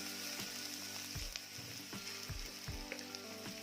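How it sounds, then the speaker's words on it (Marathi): Onion frying in a pan until it changes colour, a steady close sizzle with soft scraping stir strokes running throughout. "कांदा देखील छान असा रंग बदलेपर्यंत परतून घ्यायचा आहे, भाजून घ्यायचा आहे."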